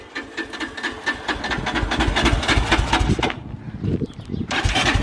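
A 450 motocross bike engine firing up and settling into idle, a rapid close single-cylinder chatter that briefly dips and then catches again.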